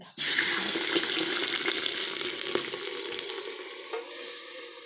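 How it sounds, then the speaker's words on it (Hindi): Yogurt hits hot oil in a pan for wazwan-style mutton yakhni and flares into a loud, steady sizzle while being stirred, easing off slowly over several seconds. "ऑयल जो है वो गर्म हो चुका है। अब हम इसमें दही ऐड करेंगे।"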